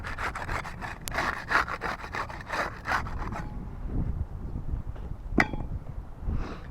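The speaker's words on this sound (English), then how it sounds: "We'll get started with the putty knife. We'll use that to unseal shingle 7 there" Putty knife prying and scraping to unseal a top asphalt roof shingle, a run of rapid rasping strokes followed by a sharp single snap and quieter scuffing nearby.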